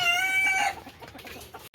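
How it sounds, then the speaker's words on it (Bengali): Small adult running mottled Japanese bantam chickens, currently moulting, cluck nearby in a brief burst of bright calls that fades into quieter background rustle and scattered clucks. "আর পাশেই আছে অ্যাডাল্ট রানিং মটলেট জাপানিজ ব্যান্থাম"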